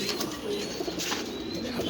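Pigeons at a pigeon farm, including Budapest, Dragon and Clark breeds, give soft, low cooing calls within a continuous flock murmur, close and steady across a short stretch.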